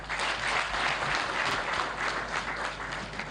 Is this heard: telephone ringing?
no